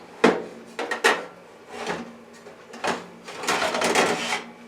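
A baking pan is slid out of a Gourmia GTF7460 air fryer oven, giving a series of metallic scrapes, clunks and rubbing noises in irregular bursts, fairly close and without talk.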